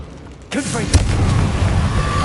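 A Confringo blast spell in Hogwarts Legacy bursts in with a sharp onset, followed by a crackling fiery whoosh and a second hit, loud and close, with a voice calling out over the start.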